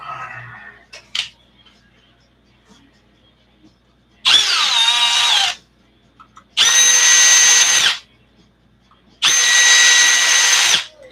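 A power drill drives screws into ARRMA RC car parts in three loud whirring bursts of a second or two each, separated by quiet pauses, after a couple of faint clicks at the start.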